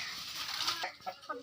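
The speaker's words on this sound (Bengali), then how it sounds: "এই বড় বিশাল যে বড় রাতাটা দেখতেছেন" A large desi rooster on a home farm clucking in a few short, close throaty bursts over a noisy outdoor background.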